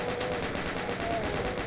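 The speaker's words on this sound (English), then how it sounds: "Chain gunners coming in on the left." Chaingunners fire chain guns in Doom, making continuous fast, even bursts of gunfire. The shots run as a dense, loud rattle throughout, layered with other game noise.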